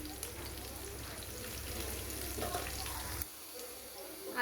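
Onion, garlic, nigella seeds and green chillies frying in oil make a soft, steady sizzle under low kitchen noise that drops away sharply near the end.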